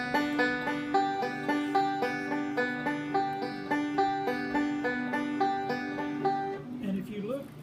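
Open strings picked in a steady rolling pattern on a stringed instrument, a quick, even run of bright plucked notes that repeat in a rhythmic cycle and then fade as it stops, heard up close with no talking.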